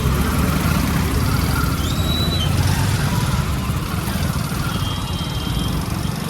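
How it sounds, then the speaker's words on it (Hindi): Road traffic jam with motorcycles and car engines idling and revving nearby, a steady dense rumble throughout with faint voices in the background. "जाम लग रहा है।"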